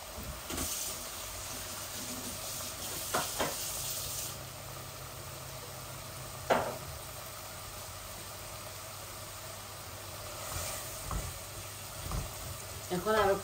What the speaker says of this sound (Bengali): এখন বিনসগুলো দিয়ে দিচ্ছি।